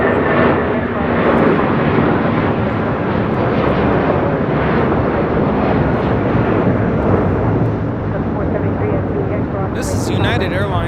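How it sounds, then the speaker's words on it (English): A United Airlines Boeing 757-200 departs from a large airport, giving a loud, steady broadband jet roar that holds for the whole stretch, with a brief hiss near the end. "This is United Airlines 1552 taking off to Newark on a 757-200."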